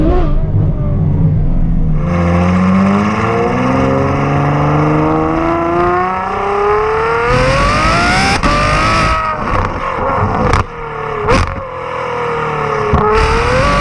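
A Ferrari F12 engine revs hard and close, its howl rising smoothly in pitch before snapping through quick shifts and sharp throttle blips near the end.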